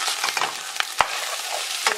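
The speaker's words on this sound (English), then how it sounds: "Throw the pineapple in and fry it." Rice with egg, shrimp and pineapple being stirred and fried in a pan, with scraping utensil strikes over a steady close sizzle and no talk.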